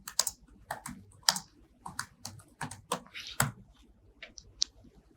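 Typing on a computer keyboard, with quick irregular bursts of key clicks close up, pausing briefly between words, and no talking.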